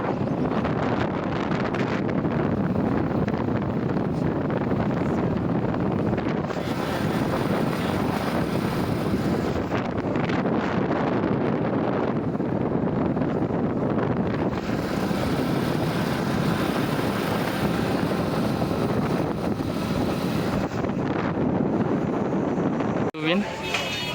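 Steady roar of wind buffeting the microphone while riding a motorbike, continuous and loud for the whole stretch with slight surges and a brief knock near the end.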